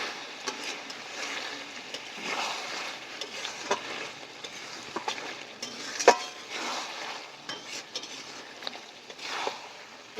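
Chicken kosha stirred in a pan after a splash of water: soft, close scraping and light clinks of a spoon against the pan, with a few sharper taps over a low, quiet sizzle.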